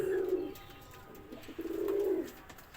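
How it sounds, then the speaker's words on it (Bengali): Domestic pigeons kept on a rooftop garden loft with chicks coo in two low, throaty rolling bursts, close by and fairly loud, with faint chirps between and no talking. "দেখেন এই কবুতরের বাচ্চা"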